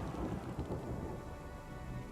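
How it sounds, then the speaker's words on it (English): A deep rumble of thunder rolls over steady rain in the video game Pathfinder: Kingmaker, with a broad wash of falling rain throughout and no voices. "Villagers enter by deafening clap of thunder, and a bolt of lightning cracks down and scorches the huge tree in the middle of the village."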